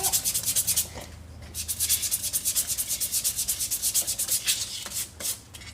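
A wooden salt shaker being roughed up by hand, producing steady rhythmic rubbing and sanding strokes, close and continuous, in quick back-and-forth bursts.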